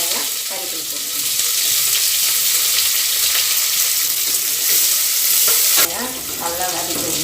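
Onions and curry leaves sizzle in hot oil with dried red chillies in a pan, a steady close frying hiss with a spoon stirring and scraping, louder as ingredients are tossed near the end.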